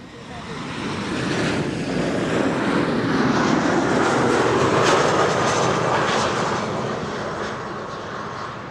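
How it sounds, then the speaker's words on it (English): A Delta Airlines A330 arriving from Detroit at Schiphol swells into a loud, rushing engine roar as it passes overhead, then slowly fades. "And then an A330 from Delta. Delta Airlines flight 136 arriving from Detroit."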